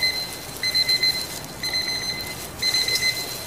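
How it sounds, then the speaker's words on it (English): A kitchen timer alarm goes off while ramen noodles are being cooked, sounding in three bursts of rapid high electronic beeping over a steady room background. "You know you can stop the timer too"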